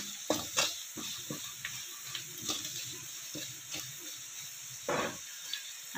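Turmeric, red chilli and black chilli powder sizzle in hot oil in a pan, a steady close hiss with intermittent scrapes and taps of a spoon as the spices are stirred, no speech.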